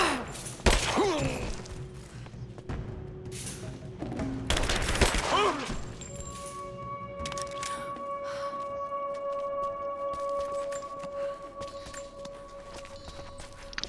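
Scattered gunfire and thuds in a Rise of the Tomb Raider firefight near a mill, with a few sharp bursts early on, then steady droning tones and lighter clatter.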